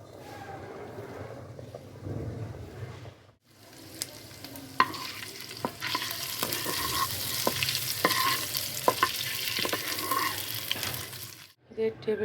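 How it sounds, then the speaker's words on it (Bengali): Onion, ginger and green chili paste frying in a pan over a clay stove, a hissing sizzle that builds after a quieter start, with sharp scraping and stirring clicks throughout before cutting off near the end. "এটা মশলাটাকে ভেজে নেব।"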